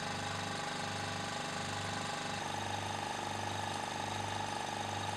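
A laboratory vacuum pump hums steadily at low level during filtration of yellow vanillin–nitromethane Henry reaction crystals, a constant mechanical drone with a slight change in tone midway.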